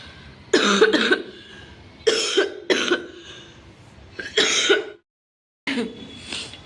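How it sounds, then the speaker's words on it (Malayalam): Several dry coughs from a woman come in short bursts, some in quick pairs, close and fairly loud, with brief quiet gaps between them. "ഇടയ്ക്കൊരു ചുമ വന്നേട്ടോ"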